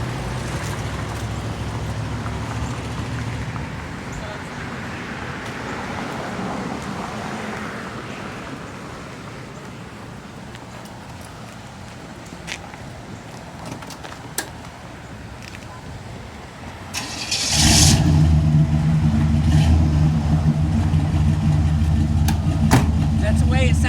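An old car that had sat untouched is started, its engine catching partway through and settling into a steady, loud idle that fills the rest of the clip, with people talking over it before and during the start.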